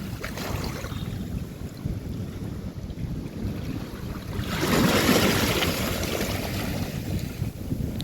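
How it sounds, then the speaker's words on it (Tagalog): Steady rush of surf with waves breaking nearby on Manila Bay's Dolomite Beach, swelling louder midway, mixed with gusty wind buffeting the microphone. "Medyo malakas din yung hampas ng alon ngayon."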